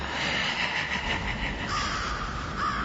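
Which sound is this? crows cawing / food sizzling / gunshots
crows cawing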